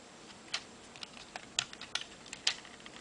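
Plastic Transformers Combiner Wars Bruticus figure being handled and folded, with several sharp plastic clicks and taps scattered irregularly, close and fairly quiet, with no talking.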